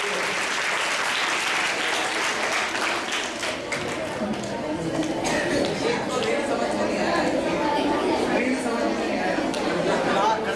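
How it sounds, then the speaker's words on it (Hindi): A group of schoolchildren applauds together, a dense, steady burst of clapping that runs for about ten seconds with murmured chatter mixed in. "आप इसके बाद इसके लिए ताली बजाइए।"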